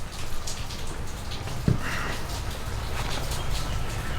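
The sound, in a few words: rain falling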